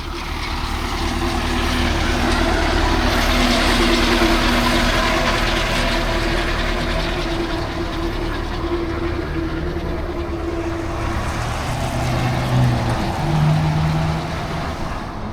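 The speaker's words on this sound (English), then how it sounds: "Russian tractor cleaning the streets" A Russian tractor cleaning the streets of Moscow, a continuous low engine rumble with steady mechanical drone and road noise, loud and unbroken throughout with no talking.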